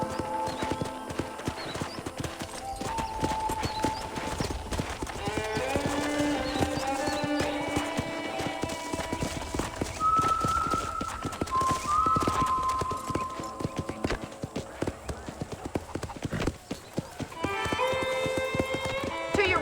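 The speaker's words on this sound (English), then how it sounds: "I picked out a fine horse for you." Steady clip-clop of horse hooves plodding along throughout in the video game Red Dead Redemption, with people talking over it and occasional tonal music-like notes.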